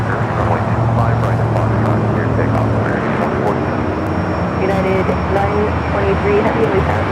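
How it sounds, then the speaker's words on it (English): A Boeing 747 airliner roars through its takeoff at LAX airport, a loud continuous jet rumble filling the whole stretch, with radio chatter and voices heard underneath. "Our next 747, they take off as that Queen now heads to the north side"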